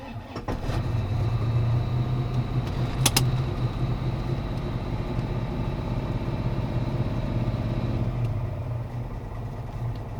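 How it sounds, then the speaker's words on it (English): A Holden car engine runs on MegaSquirt engine management, idling steadily and loud with a low, even rumble and a brief higher tick partway through. "The car runs and it actually runs okay."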